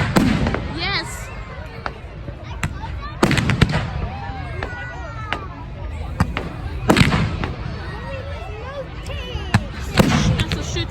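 Bonfire night fireworks display on the 5th of November, with repeated loud bangs and crackling bursts at irregular intervals, whistling rising shells between them, and people cheering and talking in the background.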